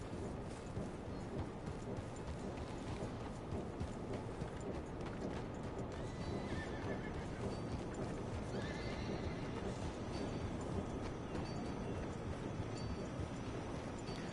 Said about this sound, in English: Just look at that horse.